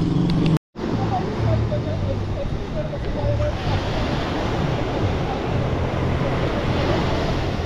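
Surf breaking along a beach in Sosúa, Dominican Republic, a steady broadband wash of waves with wind noise on the microphone, continuous and fairly loud, interrupted by a brief dropout near the start.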